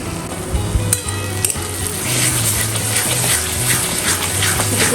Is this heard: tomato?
yes